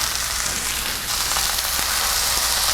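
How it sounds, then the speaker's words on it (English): Deer steak sizzles in a hot pan with cooking oil and juices, a dense, steady crackling hiss that runs unbroken and fairly loud, close to the pan. "it's not sizzling as loud or as fast as it was when we first put it on"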